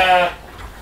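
A sheep at Rojokoyo Farm, among animals being readied for shipping, lets out a short, loud, tremulous bleat close by, which fades quickly into quiet background noise.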